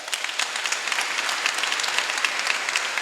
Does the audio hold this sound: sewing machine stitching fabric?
no